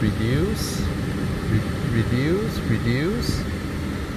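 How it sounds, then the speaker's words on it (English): A loud, steady whoosh of a Mercedes EQE's air conditioning fan blowing at its lowest speed, with a person talking over it. "the aircon is just extremely loud"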